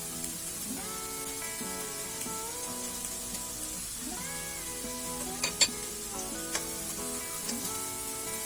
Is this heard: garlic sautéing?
yes